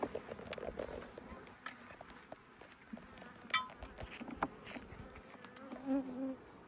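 Bees buzzing around an open beehive on a farm, a soft steady hum with scattered louder passes near the mic, plus light clicks and taps of frames being handled.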